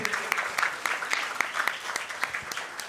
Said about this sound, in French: Des applaudissements pour le public, s'il vous plaît.